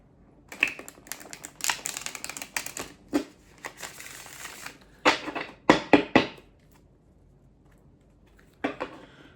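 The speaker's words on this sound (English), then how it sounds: "Just give the cards a bit of a shuffle." Tarot cards being shuffled close by: irregular bursts of papery riffling and flicking, with quiet gaps between handfuls.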